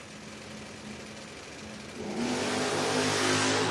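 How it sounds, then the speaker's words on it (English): Drag race cars in a heads-up bracket race on a Door Wars strip launch from the line: a steady engine drone swells into a louder, rising roar about halfway through as they accelerate away, with no talk. "We got a clean drag race."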